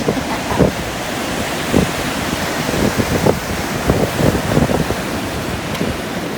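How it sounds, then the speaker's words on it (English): Strong wind buffets the microphone over steady Atlantic surf at a Florida beach near St Augustine, a continuous roar of breaking waves and gusts with no talk. "I hope you can hear us over the wind"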